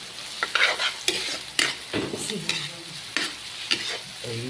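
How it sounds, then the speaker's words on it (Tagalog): Squid adobo aromatics sautéing in a pan, a steady close sizzle broken by repeated scraping stirs of the spatula, with no talking. "ginisa ko na lahat ng ating marikado"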